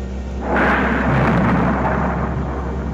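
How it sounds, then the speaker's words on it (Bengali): Cartoon thunder-and-lightning effect in a Bengali horror story, a loud rumbling crack that swells after half a second and rolls on steadily, alone with no talk. "এমন সময় বিদ্যুৎ চমকালো।"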